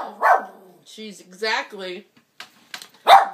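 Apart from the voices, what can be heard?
Yorkshire terrier barking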